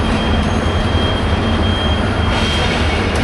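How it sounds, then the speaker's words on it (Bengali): The Jamalpur Express passenger train departs near the Bhairab railway bridge in Bangladesh, a loud, steady, close rumble of rolling wagons that fills the whole moment. "এইদিকে ছেড়ে গেল জামালপুরগামী জামালপুর এক্সপ্রেস।"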